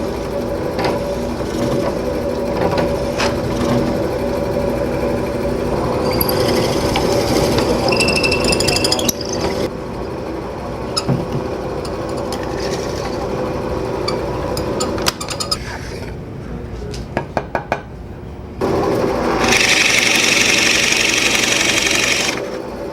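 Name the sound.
drill press drilling a mortise in wood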